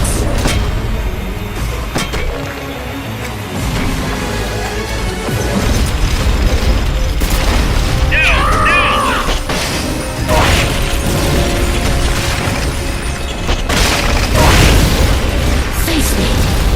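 Tail missiles firing in Metal Gear Solid: Peace Walker, a steady loud stream of booming, crashing mechanical blasts with scattered bursts and pops over a dense low rumble throughout.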